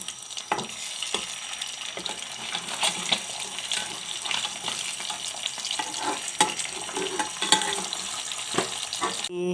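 Fish fries slowly in a pan, a close, steady sizzle broken by occasional clicks and scrapes from turning, with a watery hiss running underneath.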